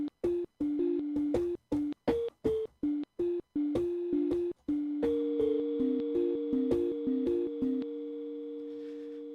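A synth patch plays a run of short, clipped tonal notes with abrupt stops, then a held note that sustains steadily and slowly fades, clean and alone with no voices.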